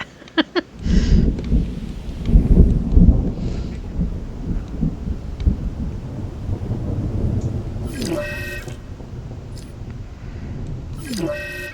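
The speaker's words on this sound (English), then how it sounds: "All personnel, please proceed to cover and remain there until the storm subsides." Thunderstorm in the video game Jurassic World Evolution 2, with deep rolling thunder rumbles and steady rain hiss, joined by a spoken announcement and other talk partway through.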